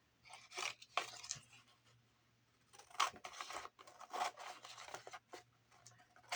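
Scissors cutting through paper at close range, several short rasping snips and crisp crinkles in separate bursts with quiet gaps between, fairly faint overall.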